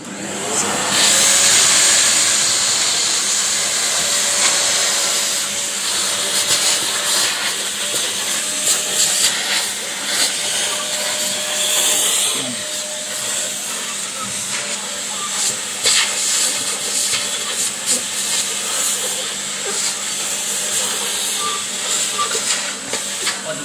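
A wet and dry vacuum cleaner runs continuously with a loud, steady hissing whine, and a person talks faintly underneath at times.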